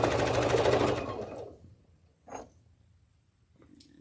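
Sewing machine running in rapid, rhythmic stitching for about a second and a half, then stopping, followed by a couple of faint short knocks in the quiet.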